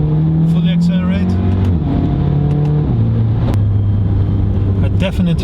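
A Stage 2 tuned Volkswagen Polo GTI 6C with DSG transmission accelerates hard through the gears, its engine drone stepping down in pitch at each quick shift, loud and steady inside the car, with a voice talking over it.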